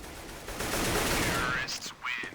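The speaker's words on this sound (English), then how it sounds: "He just fires away there rapidly, trying to get the kill into wayLander, finally takes him down." Rapid automatic gunfire from a Counter-Strike match on the Cobblestone map, loud dense bursts running for about a second and a half before tapering off into brief game chatter.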